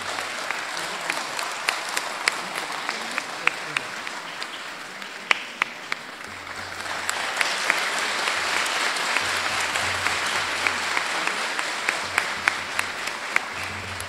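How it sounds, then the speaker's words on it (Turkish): Sustained applause from an indoor audience at the opening ceremony of the Bursa International Photography Festival, dense clapping with sharper individual claps and a low hum beneath. "Alkışlarınızı rica edeceğim."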